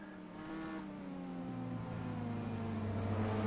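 Race cars on a formation lap at Donington in a racing video game, engines droning steadily at a comfortable pace as the pack rolls round, a continuous layered hum with gently rising intensity and no talk.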